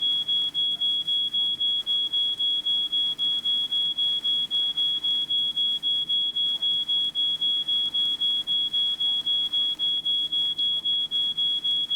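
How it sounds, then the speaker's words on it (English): A smoke alarm set off by burnt toast in the point-and-click game She Could Fly sounds a steady, shrill high-pitched tone, pulsing rapidly and without a break, loud and continuous over faint room noise. "We need to do something about that alarm."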